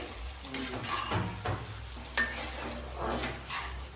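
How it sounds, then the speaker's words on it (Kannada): Garlic frying in a pan for chutney. A soft, steady sizzle plays throughout, broken by a few faint clinks and stirring scrapes, with no talking. "ನೋಡಿ ಹೇಗೆ ನಮ್ಮ ಗಾರ್ಲಿಕ್ ಚೆನ್ನಾಗಿ ಫ್ರೈ ಆಗಿದೆ"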